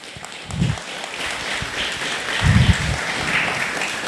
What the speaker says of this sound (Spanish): Quiero que recibamos con un fuerte aplauso a Juan Francisco.